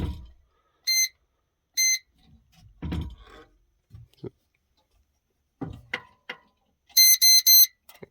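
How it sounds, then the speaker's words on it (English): Sharp electronic beeps from a wall safe keypad: two single beeps early, then a quick run of three, with soft handling noises and brief murmurs between. "It beeped."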